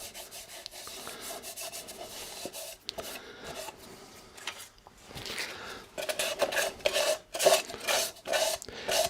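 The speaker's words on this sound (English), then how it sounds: "to try and sand that now with this turning is a nightmare" Sanding a wooden yarn bowl on a lathe, giving rough rasping and rubbing strokes in irregular bursts that grow louder and choppier toward the end, with a few faint metallic clinks.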